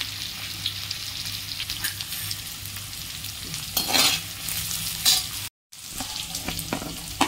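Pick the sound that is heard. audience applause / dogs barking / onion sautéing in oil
onion sautéing in oil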